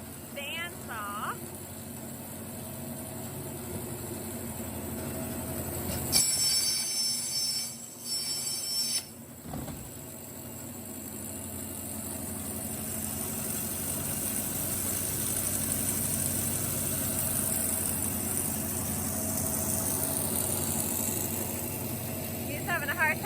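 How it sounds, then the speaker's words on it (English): A vertical bandsaw cutting up a heavy Gaylord cardboard box makes a steady, droning machine hum that shifts briefly partway through, then carries on evenly. "cutting up Gaylord with the vertical bandsaw"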